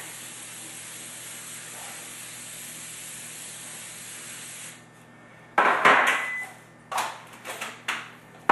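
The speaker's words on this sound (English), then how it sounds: "I spray the bottom of it" A steady low hiss runs for several seconds, then stops, followed by a few short spray bursts with small knocks between them.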